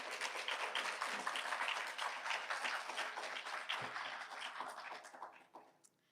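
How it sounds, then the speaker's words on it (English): Applause from an evening panel-discussion audience in Chicago, a steady, dense clapping that holds for several seconds and then thins out and fades at the end. "So I'd like you to give a round of applause"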